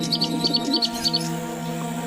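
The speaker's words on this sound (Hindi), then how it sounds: "कितने सुंदर पक्षी हैं, और ये रंग बिरंगा तोता तो बड़ा ही मन भोला वाला है" Caged birds, including a colourful parrot, chirp in quick repeated high tweets over a steady tonal background, with several bursts in the first half.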